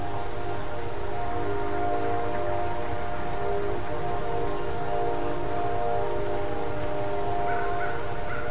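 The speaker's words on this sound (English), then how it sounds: "Maybe you hear the train." A steady, continuous rumble of a passing train with a sustained tonal hum, heard from some distance and unchanging for several seconds.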